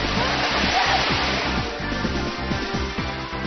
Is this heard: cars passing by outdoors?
no